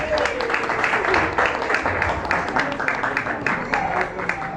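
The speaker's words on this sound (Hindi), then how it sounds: "जोरदार तालियां बजा दीजिए" Sustained applause from a church congregation, dense and fairly loud, clapping continuously throughout with a faint voice underneath.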